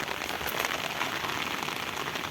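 Heavy rain pouring down at an outdoor used-car market in Rivne, a dense, steady hiss of drops striking surfaces nearby, with no voices.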